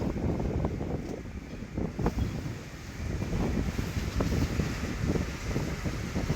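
Strong wind and waves strike a boat at sea, heard as rough gusty buffeting with irregular low thumps and surges of rushing noise, close to the microphone and uneven in loudness.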